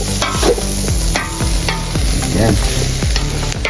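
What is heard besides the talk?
stirring pork lung and heart bopis in pan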